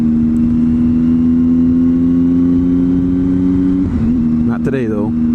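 Triumph Tiger 800cc motorcycle engine on a cold commute, a steady low idle drone that rises in pitch near the end as the bike pulls away, close and loud, with a rider's voice talking over it.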